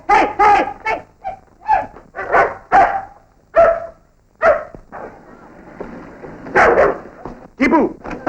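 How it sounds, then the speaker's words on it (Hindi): A small dog barks repeatedly in sharp, close bursts in a 1958 black-and-white Hindi film scene, with voices speaking between and around the barks. "बड़ा छोटा सा कुत्ता है।"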